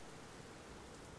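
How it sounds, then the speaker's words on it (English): Steady, even rain in the game Age of Empires II, a soft continuous hiss with no other sound. "It is raining! Oh my god, it's actual rain!"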